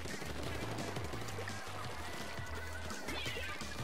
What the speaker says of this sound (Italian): Guarda da là dietro come sparano i razzi